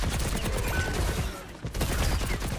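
Soldier's rifle firing in the game Overwatch: dense, continuous rapid gunfire fills the stretch, loud and close, with a brief dip midway before the stream of shots resumes.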